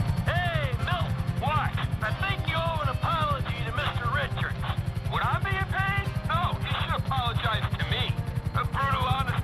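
A GTA 5 helicopter flies with a steady, rapid low rotor chop running continuously underneath, while someone talks over it throughout.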